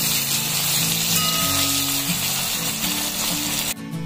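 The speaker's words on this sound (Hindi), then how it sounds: "तब तक हम इसे भूनने देंगे।" Chopped tomatoes fry in hot oil with green coriander for Amritsari paneer bhurji, a loud, close, continuous sizzle with crackling spatters, holding steady throughout and no talking.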